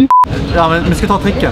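A mobile phone gives two short, clear electronic beeps in quick succession at the very start, followed by people talking outdoors.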